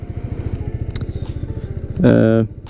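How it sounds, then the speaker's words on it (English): A green Kawasaki mini motorcycle with red wheels, a Honda Grom–style bike, idles with a steady pulsing putter, then revs up sharply and pulls away, loud and close, before the sound cuts off. "Kawasaki version of a Honda Grom. There he goes."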